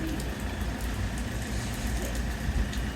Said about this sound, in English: Well, rain has certainly started.